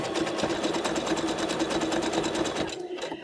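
Sewing machine stitching microfiber cloth, a fast steady mechanical whir of needle strokes at close range that stops abruptly near the end.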